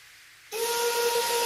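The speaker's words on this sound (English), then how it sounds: "Then she heard a whistle and a chugging sound coming behind her." A steam train whistle bursts in suddenly after a quiet moment and holds a loud, steady, hissing tone to the end.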